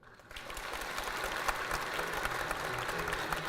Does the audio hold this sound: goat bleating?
no